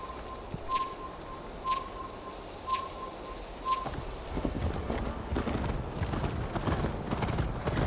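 Rhythmic clip-clop of horse hooves on a hard surface in the video game Assassin's Creed Valhalla, steady and close, with faint chirps and a soft whinny in the background.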